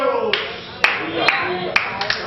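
Congregation clapping during a Spanish-language church sermon: several sharp claps spaced through the moment, sitting under an ongoing preacher's voice and background murmur.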